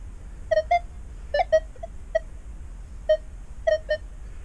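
Minelab Equinox 800 metal detector in Park 1 mode at sensitivity 23, giving a series of short, clear electronic target tones, singles and quick doubles spaced irregularly over quiet background.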